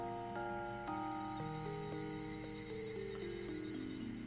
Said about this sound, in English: I could hear the cry of cicadas around me.